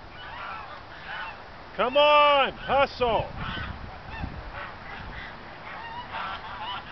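Several loud Canada goose honks ring out close by in a quick cluster, with a person calling out over a noisy outdoor background.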